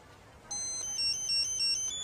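A cell phone ringtone starts abruptly, a bright repeating electronic melody of high tones pulsing in a steady pattern, fairly clear against a quiet background.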